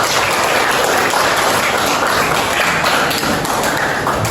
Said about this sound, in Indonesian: kita beri tepuk tangan untuk kelompok kinestetik